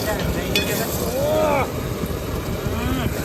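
Fish masala bubbling and thickening in a pan over an outdoor fire, a steady close sizzle and simmer with stirring scrapes, under intermittent voices and background noise.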